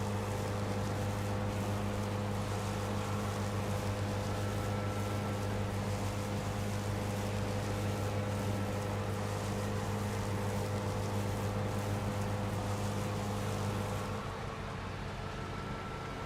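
A steady, droning engine hum from a lawnmower with flames and a big chrome exhaust in Farming Simulator 25, running at an even pitch with a low rumble throughout and slightly dropping near the end, with no talking.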